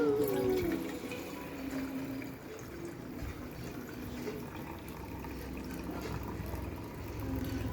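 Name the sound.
water being poured in to make Maggi noodles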